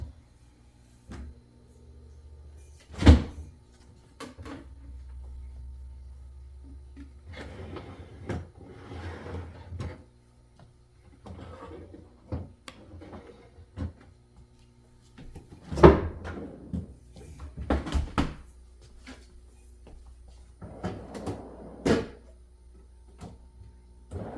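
Doors of a small French door refrigerator opened one after another, giving several sharp clicks and thumps with rustling handling sounds in between, close by with no talk.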